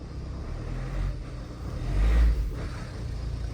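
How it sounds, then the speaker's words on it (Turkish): A diesel Ford Tourneo Connect engine idles with a low, steady rumble, swelling briefly louder midway before settling back to a constant hum. "Ya bu arabanın sesini seviyorum arkadaşlar."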